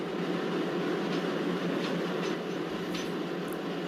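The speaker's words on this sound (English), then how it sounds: "Interior of Garib Rath coach." Steady rumbling roar inside a running Garib Rath Express coach, with faint rail clatter and occasional brief squeaks over a constant low drone, no talking.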